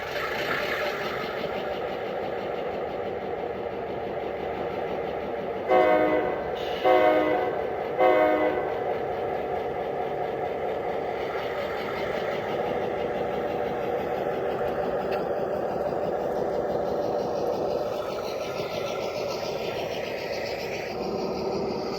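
A Bachmann G scale model locomotive runs with hopper cars and a caboose, giving a steady low rolling rumble throughout, with a few short horn-like blasts clustered near the middle.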